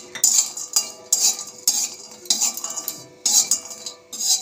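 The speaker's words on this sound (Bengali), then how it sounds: "হালকা করে নেড়ে নেব।" A metal spoon stirs whole spices, mace and black cardamom, in a pan for biryani masala, making repeated close scraping clinks in short rhythmic bursts with brief pauses between them.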